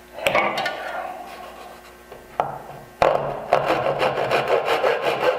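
Hand saw cutting a miter into a wooden cabinet drawer part, giving close, steady rasping strokes after a few sharp knocks of the saw settling into the wood.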